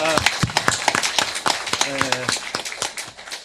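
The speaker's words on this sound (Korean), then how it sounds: "우리 박수로 환영합니다" A church congregation at a children's Sunday service claps to welcome people coming forward, loose rhythmic claps close by mixed with voices and some music-like tones.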